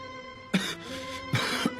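A person coughs three times in quick, harsh bursts separated by short pauses, close and loud over a faint background hum, with the last bursts coming closer together.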